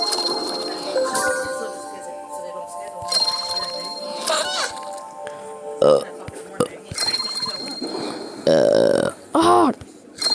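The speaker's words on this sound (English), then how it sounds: "How many times have to burp?" Cartoonish burps from bacteria in the video game War of Evolution pop up amid game music and clinks, several short bursts near the end, with a player talking over them.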